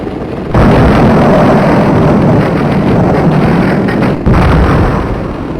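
An airplane crashes into a caterer truck in the DOS game Stunt Island, a loud, harsh, noisy rumble that holds steady for several seconds, with a brief dip before it resumes.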